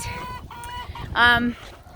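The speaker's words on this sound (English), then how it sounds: "all the chickens are flocking to me because they think I've got a treat for them" Chickens cluck and squawk close by in a brief burst, with a louder, higher call near the middle over a light breezy background.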